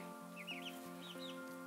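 Chickens cluck and murmur softly nearby in short repeated calls, with a few higher chirps over a steady low background hum.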